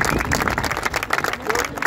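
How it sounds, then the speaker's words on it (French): A crowd applauds the podium team at a Va'a outrigger canoe race in Les Sables-d'Olonne, with dense, steady clapping at moderate distance throughout and some voices mixed in. "Allez, on applaudit"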